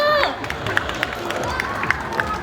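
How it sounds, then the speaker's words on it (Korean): Street crowd at a girl-group dance busking show in Hongdae, Seoul, claps and cheers in scattered bursts while a performer talks over the noise through a microphone. "박수!"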